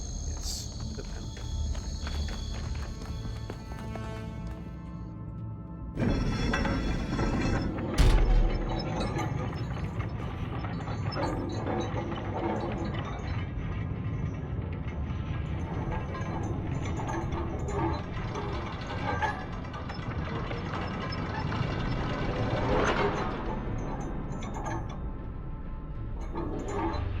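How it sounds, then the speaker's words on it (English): Elevator machinery in The Talos Principle 2 video game, continuous mechanical grinding and ratcheting with gear clatter, a louder clunk partway through, and a steady rumble running throughout. "That's an elevator."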